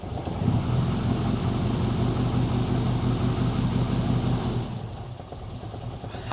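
A classic Mini engine idles steadily after a choke cable replacement, giving a low, rhythmic, close running note that fades as it is switched off near the end.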